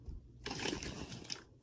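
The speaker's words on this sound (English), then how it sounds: "if you hear crackling in the background, it is because my stupid cat is playing with the plastic bag" A cat playing with a plastic bag makes one faint crinkling rustle about a second long in a quiet room.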